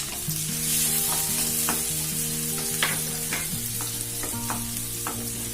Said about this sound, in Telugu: ఆ తురిమి పెట్టుకున్న వెల్లుల్లిపాయలని యాడ్ చేసుకొని ఫ్రై చేసుకుందాం